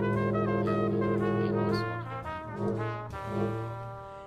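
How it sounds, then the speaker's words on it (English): A ship's foghorn in the video game Stormworks blasts a loud, deep, sustained tone with a thick stack of overtones that holds for a few seconds before shifting and fading. "It has a foghorn, which sounds like this."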